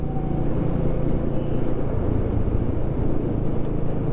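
Steady, dense road rumble and wind noise from a motorcycle cruising on the highway out of Delhi, close and continuous with no breaks.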